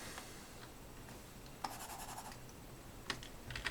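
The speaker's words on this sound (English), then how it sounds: "Erase that." A pencil drawing of a dog is erased on paper, with quiet close scratching and a few sharper rubbing strokes over a faint background.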